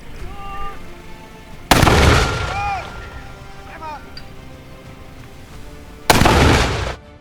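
Two heavy military weapon shots at an Indonesian Army research and development event, each a loud close blast with a roaring tail, separated by a few seconds, with voices and whistling in between.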